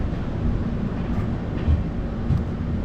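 Shalimar Trivandrum Express running between Palasa and Srikakulam, a steady low rumble of the moving train heard from inside, with faint rattles and clunks and no talk.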